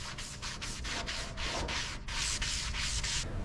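Body filler on a Dodge car body is sanded by hand in steady, rhythmic back-and-forth strokes, each a loud close scratchy rasp, repeated about a dozen times with no talking.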